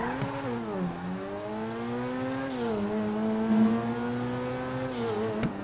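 A car in the video game GTA V accelerates hard from a standing start, its engine note climbing steadily, dropping briefly at each upshift, then rising again through the gears, loud and continuous.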